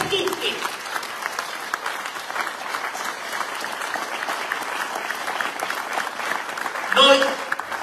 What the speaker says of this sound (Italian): Applausi per tutti!